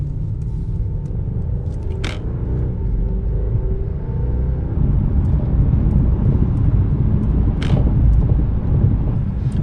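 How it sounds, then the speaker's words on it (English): Inside a 2021 Mercedes-Benz S580 4Matic sedan cruising on the interstate, a low, steady road rumble and muted tire and wind noise fill the cabin, with a couple of faint clicks and no talking. "it will give you a sense of just how quiet and comfortable this car is on the interstate"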